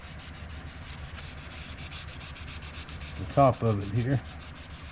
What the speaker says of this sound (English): Got some Scotch-Brite here, piece of Scotch-Brite pad. Just want to clean off the